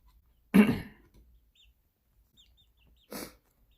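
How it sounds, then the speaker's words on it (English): An ayam cemeni chicken lets out a sharp, close squawk, followed about two and a half seconds later by a shorter second call, with near silence in between. "Oh my, a little squawk."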